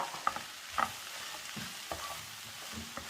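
Agathi flower thoran stirred in a frying pan, with soft scraping strokes at a steady, unhurried pace over a low sizzle, close and fairly quiet, no voices.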